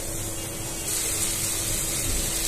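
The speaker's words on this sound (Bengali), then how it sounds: "এখন আমি মশলাটা ভালো করে কষে নেব।" Spice paste fries in oil in a pan while a Bengali baim fish bhuna is cooked, giving a steady, close, hissing sizzle that swells slightly partway through.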